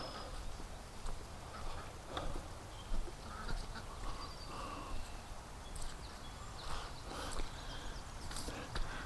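Upset duck quacking somewhere off at a distance near a creek, repeated calls faint against a steady outdoor hiss of insects and wind.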